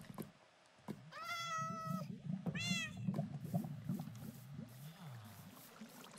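Minecraft cat meowing twice in close succession, clear and fairly near, over a low rumbling game background with faint other sounds.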